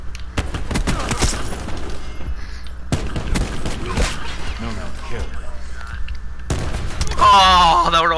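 Gunshots and sniper fire from the Black Ops 4 video game, with loud cracks and bursts amid game effects and excited players' voices talking over them.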